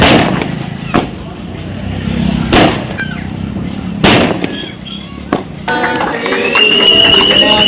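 Firecrackers bursting at an outdoor birthday celebration for a political leader, several loud sharp bangs spaced a second or two apart, with crowd voices and a horn-like tone swelling near the end.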